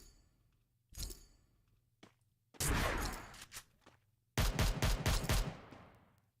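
Gunshots in the Free Fire battle royale game during a tournament match: a single early shot, then a long burst of fire, then a rapid string of close, loud shots over a faint background hum.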